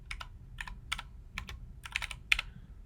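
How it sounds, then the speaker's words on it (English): Typing on a computer keyboard, several quick bursts of close, crisp key clicks in uneven rhythm with short pauses between, no voices. "I'm going to go ahead and type in"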